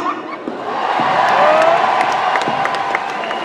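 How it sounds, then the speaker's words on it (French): A crowd at Paris Games Week claps and cheers for a few seconds, a loud wash of applause with scattered whoops swelling in the middle. "Je pense qu'on peut l'applaudir"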